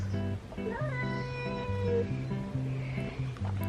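A cat meows nearby, with a few drawn-out wavering calls over steady, tonal background sound.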